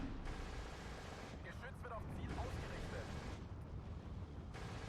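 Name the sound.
mortar rounds exploding in video game Steel Division 2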